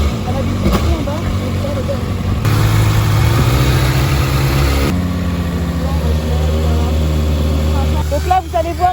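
Kawasaki 636 motorcycle engine idling after its idle screw is raised, a steady close mechanical hum with a short rise in the middle, then a brief rev near the end.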